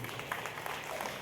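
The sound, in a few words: audience clapping at a music concert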